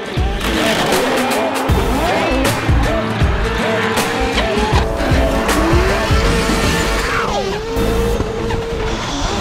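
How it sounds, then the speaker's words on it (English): Drift cars at a Formula Drift event spinning through their runs, with engines roaring and tires squealing in long, wavering shrieks, loud and continuous, plus scattered crowd noise. "Let's go watch some cars spin."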